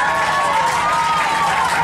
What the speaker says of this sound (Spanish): Los aplausos para número uno.